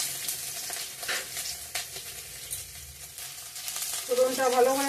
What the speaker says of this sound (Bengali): ফোড়নটা ভালো করে ভাজা ভাজা হয়েছে।